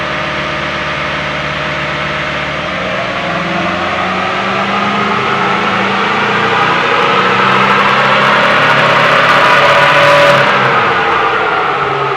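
A car engine revs steadily under load on a run up to 60, a loud continuous drone whose pitch climbs gradually over several seconds, close and alone without speech.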